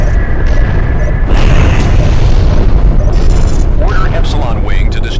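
A loud, heavy explosion booms as a target is destroyed in the space combat game Freespace 2, the blast rolling on under voices and radio chatter.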